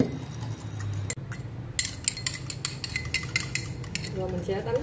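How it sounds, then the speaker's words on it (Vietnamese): Eggs seasoned with salt and pepper are beaten in a bowl, giving quick, repeated clinks and taps of a utensil against the dish, fairly faint and uneven, with a brief pause partway through. "Rồi mình sẽ đánh đều cái hột gà lên lại một lần nữa"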